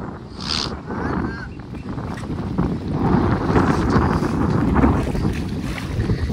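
Wind rushes steadily past the microphone with a low, blustery rumble, growing louder midway, over faint splashing of water.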